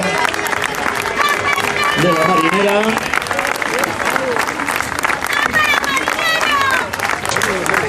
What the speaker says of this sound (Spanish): Un aplauso para la tripulación